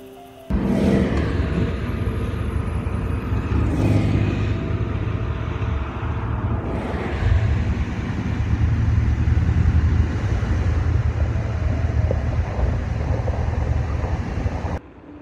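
A car cruises along US Highway 101 in northern California, a steady, loud road drone with tire and wind rumble that continues without a break, no voices heard.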